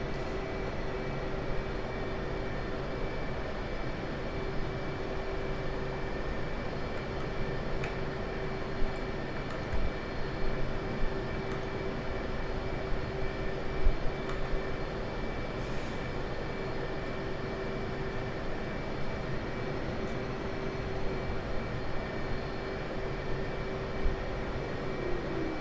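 A jet aircraft taxis for takeoff, its engine giving a steady, faint, even whine and roar that holds unchanged throughout, with occasional small knocks and no talk.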